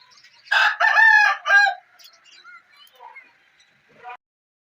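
A village rooster crows loudly nearby while harmal smoke is given to the flock, followed by softer scattered clucks and a short final squawk from chickens.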